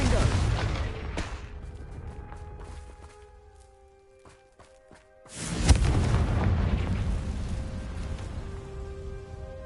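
Confringo spell explosion in Hogwarts Legacy, a loud booming blast at the start that fades into near quiet, then a second heavy burst with rumbling debris and lingering tonal ringing.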